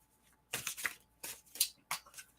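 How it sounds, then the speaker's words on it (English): Tarot cards being shuffled sloppily by hand, four quick riffling bursts of papery flapping and snapping separated by short pauses, close and fairly quiet, with no talk. "Sloppy shuffle."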